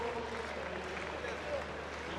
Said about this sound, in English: Crowd getting themselves involved.